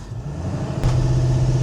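A Ford Excursion with a 7.3 diesel engine revs while driving, a steady low engine drone that swells louder partway through and holds close.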